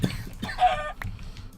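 Minecraft chickens cluck in a Sky Defender match, a few brief, soft clucks scattered among quiet game noises, with no talk.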